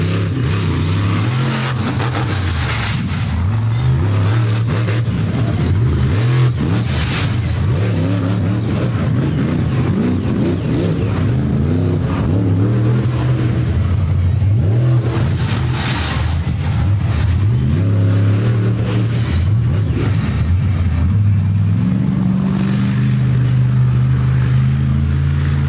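A monster truck, recently repaired after a rollover, roars around the Bloomsburg Fairgrounds during a Monster Mayhem show, its engine loud and close with repeated revving surges and a rising and falling drone throughout.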